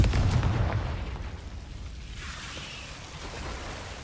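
A fiery Confringo spell blast in Hogwarts Legacy erupts with a loud low booming burst at the start, then decays into a crackling, rain-like hiss that lingers faintly with a soft swell near the end.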